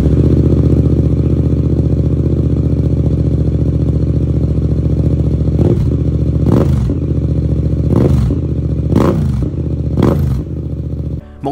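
A Yamaha R7 parallel-twin motorcycle fitted with a Yoshimura AT2 full-system exhaust idles loudly up close, then snaps through five quick throttle blips with crackling overrun between them.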